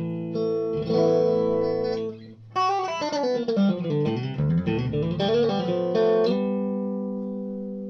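An electric guitar plays with a clean, unsaturated tone: sustained chords, then a run of picked notes, ringing out with a touch of reverb.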